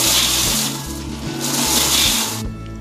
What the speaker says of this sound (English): Now let's grind it all together until it forms in a fine powder.